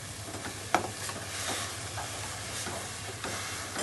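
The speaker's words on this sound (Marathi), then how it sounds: "दूध आटेपर्यंत असंच परतून घेऊया हलवत राहा" Milk is stirred in a pan as it reduces for coconut ladoo, soft scraping strokes of a spoon against the pan over a gentle simmering hiss, with a few sharper clinks, alone without talk.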